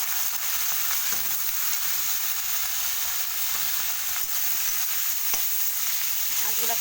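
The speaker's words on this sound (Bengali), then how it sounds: "মাছের আঁশগুলোকে ভেজে নেবো, তার জন্য কিছুটা সরষার তেল দিয়ে দেবো" Fish scales frying in hot mustard oil in a heated pan, giving a steady, loud, dense sizzle that runs unbroken throughout, with a few faint stirring clicks and no voices.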